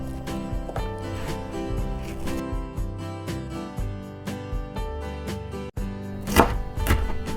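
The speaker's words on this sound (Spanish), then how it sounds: "vamos a cortar la cebolla" A knife chops onion finely on a cutting board with steady, brisk, close-up strikes, a continuous rhythmic series of sharp taps with no talking.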